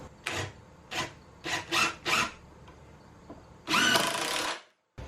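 A power driver sinking 2-inch screws into a wooden workshop cart, with five short whirring bursts followed by one longer drive, close and fairly quiet.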